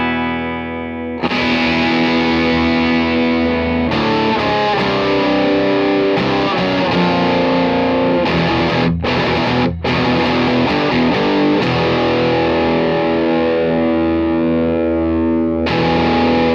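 Electric guitar played through a vintage Boss DS-1 distortion pedal, loud saturated riffs and sustained chords in an 80s hair metal style, with a brief near-silent break and a few short gaps, no talking.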